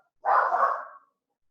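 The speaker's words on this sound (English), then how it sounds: "Oh, my dog." A dog gives a single short, fairly loud bark nearby in an otherwise quiet indoor room, with no talking over it.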